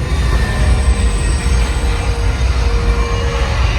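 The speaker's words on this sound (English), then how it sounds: "We got a runaway subway train!" A loud runaway subway train effect on a Universal Studios Hollywood sound stage rumbles continuously past, with heavy low-end roar, rattling wheels and a faint metallic squeal throughout.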